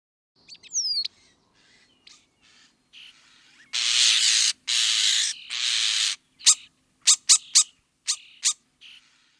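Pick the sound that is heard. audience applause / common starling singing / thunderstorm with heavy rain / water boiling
common starling singing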